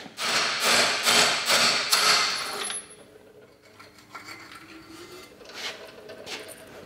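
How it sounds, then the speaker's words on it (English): Metal hammer blows on a 19mm socket with an extension, driving rusty bearings out of the lower unit gear case of a Johnson 30 hp outboard; a rapid series of sharp, close strikes for about three seconds, then quieter scraping and clinks. "put an extension on and see if I can hammer them both through"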